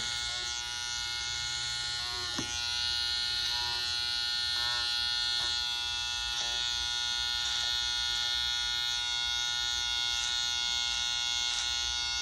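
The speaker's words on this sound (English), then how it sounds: "Anything that's too close to his neck, I'm gonna grab with my trimmer" Electric hair trimmer buzzing steadily and close up while detailing the neckline during a men's faux hawk haircut, a continuous high whine with faint periodic dips as the blade moves along the skin.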